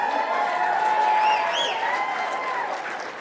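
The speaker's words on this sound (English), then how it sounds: "Please give a round of applause." A crowd at an election night event in Virginia claps and cheers briefly, a moderately loud burst of applause with a few whoops rising over the room.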